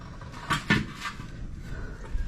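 A clay cooking pot is set down on a lit wood-fired stove, giving two or three dull, hollow knocks in quick succession, quiet and close against a soft background hiss.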